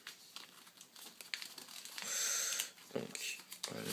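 Paper being folded into an origami shuriken crinkles and rustles close by, with a longer crumpling swell midway, as a person speaks intermittently.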